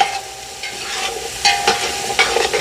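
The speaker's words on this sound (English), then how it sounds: "the carrots, onions, and celery in here, they're all cooking" Carrots, onions and celery sizzling in a pot for Bolognese ragù, a close crackling fry with a few scraping stirs of a utensil over a few seconds, no voices.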